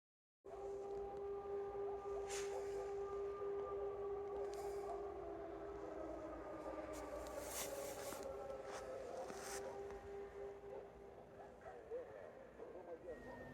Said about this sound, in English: What you're listening to here is an air raid siren in Volovets, a couple of kilometres away from where we filmed.